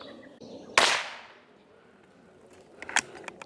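A .22 LR rifle fires one sharp, fairly close shot, then a second quieter crack follows with a few small clicks, set against faint outdoor background noise and no talking.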